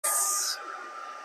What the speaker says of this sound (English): we're going to do the heat tool